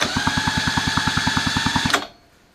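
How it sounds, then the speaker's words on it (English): A power drill whirs loudly up close, cranking a mini chopper's small engine with its spark plug out, a fast, steady chugging rhythm for about two seconds before stopping abruptly. "I can use a drill"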